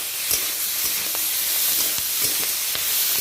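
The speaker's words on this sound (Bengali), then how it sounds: "এবার আমি আদা রসুনের পেস্ট অ্যাড করে দিলাম এবার খুব ভালো করে কষিয়ে নেব" Ginger-garlic paste frying with vegetables in hot oil for a Bengali rohu fish curry, a dense continuous sizzle with scattered sharp spatters and stirring ticks, close and alone.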